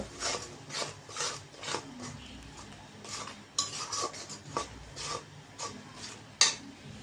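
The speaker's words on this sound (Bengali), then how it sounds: "ধনিয়ার গুঁড়া লবণ মশলাটা এখন কষাই নেব" Spice mix with coriander powder and salt being sautéed and stirred in a pan, a steady run of close scraping and clinking strokes from a utensil against cookware with no talk.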